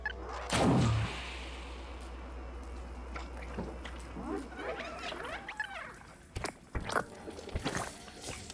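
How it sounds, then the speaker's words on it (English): A powerful gun fires in the video game Stray, opening with one loud, booming blast followed by a run of sharper cracks and squelchy effects, with no talking. "this is a powerful gun"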